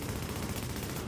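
Video game gunfire during a firefight, a dense, rapid rattle of shots blending into a continuous loud burst up close, with no gaps over its short span.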